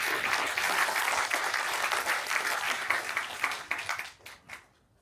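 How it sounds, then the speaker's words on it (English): Sustained applause from a seated audience at an indoor conference welcoming a guest speaker, loud and dense, then thinning into a few last claps before fading to quiet. "Let's give him a round of applause."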